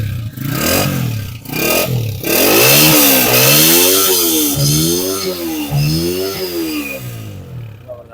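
A new Honda 125 motorcycle engine revving up close, a few short blips followed by several long rising and falling revs, loud and alone without talk.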